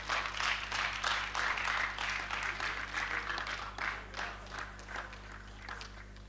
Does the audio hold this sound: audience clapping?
yes